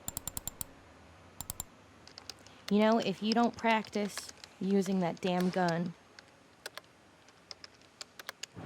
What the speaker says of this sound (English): just keeps typing